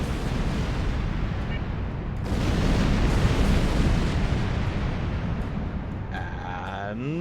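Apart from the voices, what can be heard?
starship weapons fire in the video game Star Trek Online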